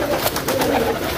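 Coloured pigeons sitting together, some nesting on eggs and chicks, coo softly and repeatedly at close range in a constant, overlapping murmur.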